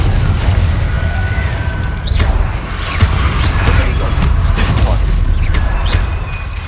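Confringo blasting-spell explosions in a wizard-duel video game: dense, rumbling booms and bursts packed close together in a continuous loud barrage, with a voice occasionally heard over the din.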